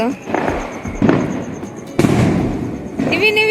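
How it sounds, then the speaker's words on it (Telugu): Diwali flower pot firecrackers erupt in a series of loud, gushing, crackling bursts roughly every second, with people talking and calling out nearby. "మూడు బాక్సులు ఏమో తీసుకొచ్చారు చిచ్చుబుడ్లు"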